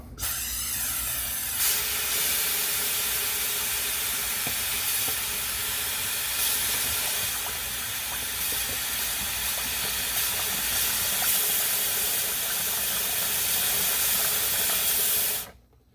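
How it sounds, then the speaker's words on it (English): Compressed air from an air hose blasts through the transmission lines of a 2008 C6 Corvette during a 6L80 transmission install, a loud steady close hiss lasting about fifteen seconds before cutting off abruptly. "I sprayed brake cleaner in there and then I just air hose it."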